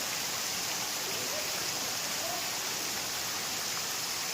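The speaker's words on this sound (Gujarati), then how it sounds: "અતિશય વરસાદ પડવા માંડ્યો છે, જોરદાર." Dense, steady hiss of heavy rain pouring down in Chalala, continuous and even with no breaks and no voices.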